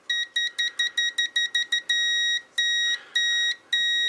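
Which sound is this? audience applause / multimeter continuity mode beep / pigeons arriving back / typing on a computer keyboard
multimeter continuity mode beep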